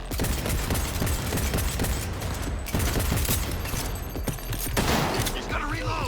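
A powerful gun in Cyberpunk 2077 fires continuously in dense, rapid shots with booming low thumps, loud and close, over a roaring battle backdrop with people talking.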